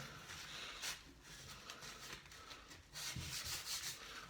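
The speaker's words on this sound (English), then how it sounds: "I'm gonna apply glue all over that" Glue being spread over wood on a shelf-building job, heard as a continuous close rubbing and scraping that swells in broad strokes and briefly thins in the middle.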